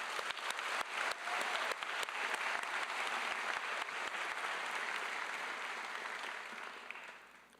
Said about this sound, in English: So let's give them a big round of applause again.